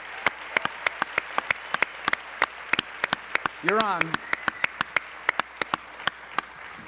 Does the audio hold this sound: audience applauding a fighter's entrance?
yes